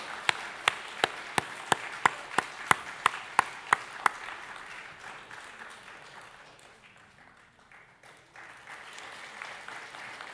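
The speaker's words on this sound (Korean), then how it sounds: "우리 한번 감사합니다, 환영합니다 하고 한번 입장 박수 드리겠습니다" A church congregation gives welcoming applause: a run of about a dozen sharp, evenly spaced claps up close, then a softer, scattered patter of clapping that fades, dips nearly to quiet, and returns faintly.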